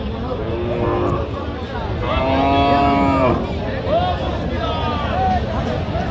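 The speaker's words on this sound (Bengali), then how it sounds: "মাংস উৎপাদনের উপযোগী গাভী গরু" Cows low repeatedly at a bustling cattle market in Jashore, Bangladesh, where lean dairy cows are traded for meat; several loud, drawn-out moos rise over constant crowd chatter and bargaining voices.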